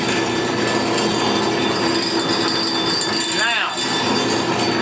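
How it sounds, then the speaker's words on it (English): A core drill grinds steadily and loudly through a metal exhaust tube, a continuous harsh whirring with a brief rising whine near the end. "let's go ahead and core drill this thing"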